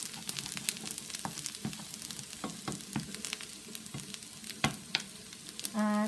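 Fried rice with ham, shrimp and egg sizzling and crackling in a pan, with steady frying hiss and repeated sharp stirring scrapes throughout, then a brief loud tonal scrape near the end.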